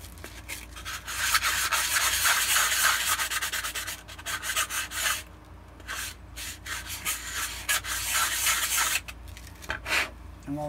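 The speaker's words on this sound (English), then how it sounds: "I'm just going to shave it down a little bit with the sandpaper" Repeated rasping strokes of sandpaper shaving down a part of a Shadow Trooper armor build, long continuous runs then shorter bursts, close up.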